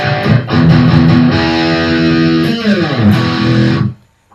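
Heavily distorted electric guitar plays chunky, sustained power chords, with a sliding chord change near the end before ringing out and cutting off.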